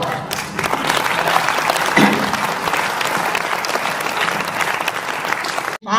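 An audience at a Hindi poetry recital claps in a dense, steady burst of applause that fills the hall and stops abruptly near the end.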